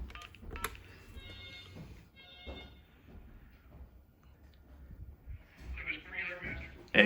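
Tones of a trackside signal box telephone being dialed, a few short beeping tones spaced through the clip over rustling and handling noise, close up.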